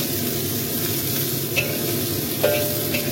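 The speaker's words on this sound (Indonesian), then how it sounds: "Ini udangnya kita goreng sampai dengan berubah warna sambil dibulak-balik ya" Shrimp frying in a hot pan for a Hong Kong–style home dish, a steady sizzle throughout with a few brief scraping clinks of a utensil as they are turned and stirred, no talking.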